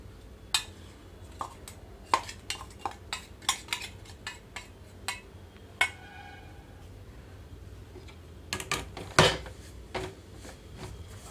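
Spoon scraping and clinking against a pot while jaggery powder is stirred into a laddu mix, irregular sharp taps and scrapes, fairly quiet, with a denser cluster of knocks near the end.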